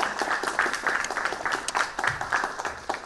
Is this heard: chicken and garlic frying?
no